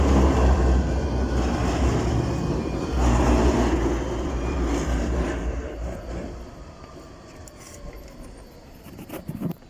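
Tram 212 pulls into the David Lane stop with a loud, steady low rumble and rolling wheel noise close by that slowly eases off as it slows, with a few squeaks near the end.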